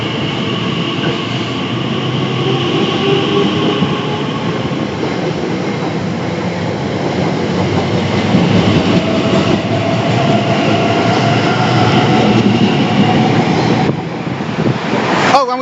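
A train passes through Southall station on the Great Western Main Line, a loud, steady rumble of wheels on rail with faint clickety-clack that holds for about fourteen seconds, then cuts off abruptly.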